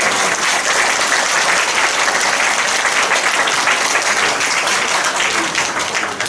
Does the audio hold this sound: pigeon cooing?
no